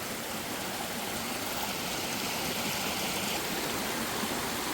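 Steady, full rush of Anderson Creek water pouring over rocks by a roadside bridge, a dense continuous wash heard close up with no voices.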